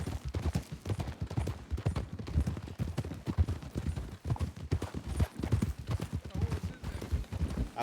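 Rapid, rhythmic clip-clop of horse hooves trotting steadily throughout, close and fairly loud, with a faint voice underneath at moments.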